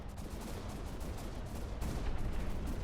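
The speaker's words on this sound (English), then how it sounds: "Look at them firing the little missiles." Steady crackling bursts of missile fire in a space ship battle video game, a dense continuous barrage that swells slightly louder midway, with no talk over it.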